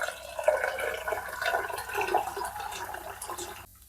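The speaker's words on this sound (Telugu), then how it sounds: "వాటర్ వేసుకుందాం" Water is poured steadily into a pot of lentils for sambar, a close, continuous gurgling splash that cuts off abruptly at the end.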